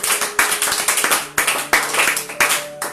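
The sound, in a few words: congregation clapping to acclaim the Lord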